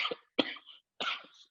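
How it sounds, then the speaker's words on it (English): A person coughs three times in short bursts, close and fairly clear, with brief silence between coughs and no talk. "Sorry for my cough."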